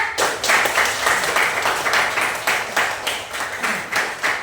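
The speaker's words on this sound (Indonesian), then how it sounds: "kita bisa tepuk tangan untuk pembelajaran hari ini, bisa?" A class of students claps their hands together at the end of a school lesson. The clapping is loud and close, coming in rhythmic pulsing bursts with no talking.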